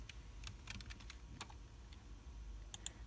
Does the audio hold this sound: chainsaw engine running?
no